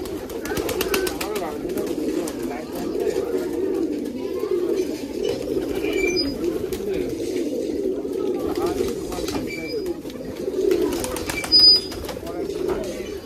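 Low, soft cooing from several Giribaj pigeons continues steadily, with a few faint higher chirps and a voice occasionally in the background.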